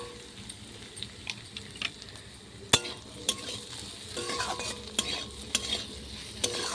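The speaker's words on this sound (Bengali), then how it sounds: "ঢাকা দিয়ে দিয়ে কিন্তু ভাজতে হবে, তাহলে খুব সুন্দরভাবে সেদ্ধ হয়ে যাবে" Greens (white ponku shaak) with potato and peanuts frying in a pan, a steady low sizzle with repeated sharp clinks and scrapes of a spatula stirring, fairly close.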